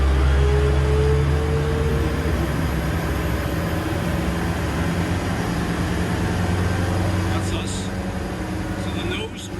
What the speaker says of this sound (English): we'll give her full throttle to get her on plane, then bring her back to cruising speed